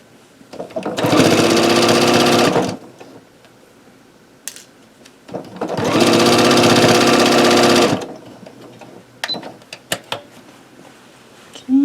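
A sewing machine stitches seams down on a minky quilt in two loud bursts of about two seconds each, with quiet handling clicks and rustles between and after them.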